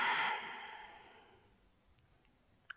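A single long breath exhaled during a face yoga exercise, soft and close at first and then trailing off into quiet, with a couple of faint clicks afterward.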